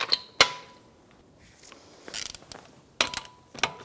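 A torque wrench ratchets while tightening the wheel lug nuts on a 2009-2014 Nissan Maxima, short bursts of sharp mechanical clicking up close separated by quiet pauses.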